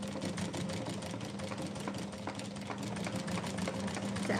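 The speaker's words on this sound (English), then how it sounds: "So at the moment, I am sewing over the pins." A sewing machine stitching over pins runs steadily and continuously with a fast, even mechanical whir and rattle, close up and moderately quiet, with no talk.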